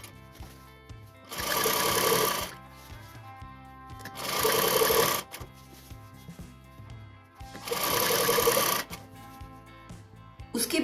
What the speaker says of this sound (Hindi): राइट टू राइट मैच करके स्टिचिंग इस प्रकार होगी